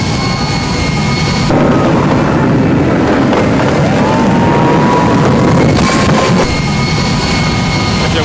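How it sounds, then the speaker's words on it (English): A jet-powered Kenworth truck fires its jet engine at Norwalk Raceway Park during a Night Under Fire show, a loud, sustained roar with a surging blast that swells midway and then settles. "his jet-powered Kenworth"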